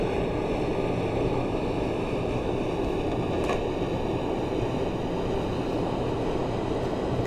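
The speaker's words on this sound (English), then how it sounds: "I'm going to shut off the power and allow the train to coast." Class 456 electric train coasting with power off in Train Simulator, a steady continuous rumble of wheels on rail with broadband running noise, even and unbroken throughout.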